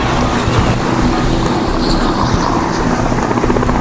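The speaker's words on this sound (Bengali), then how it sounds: "কিন্তু হেলিকপ্টারের অনেক আওয়াজ এখানে আমরা দেখতে পাচ্ছি শুনতে পাচ্ছি" A helicopter lifts off during para commando training over the Ganges at Farakka, its rotor blades and engine producing a loud, continuous, close thudding roar that fills the whole clip.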